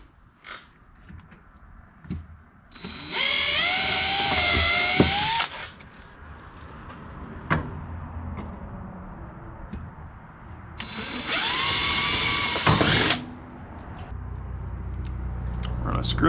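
A power drill with a 1/8 inch bit bores mounting holes for a MORryde StepAbove RV step, making two loud whirring bursts of a few seconds each, the pitch shifting as it cuts, with people talking between them.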